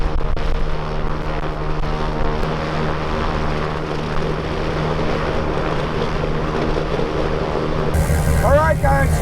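The right engine of an old, long-abandoned 401 airplane, fired up after 17 years, runs with a loud, rough propeller roar and rumble. Near the end it cuts out and people start talking.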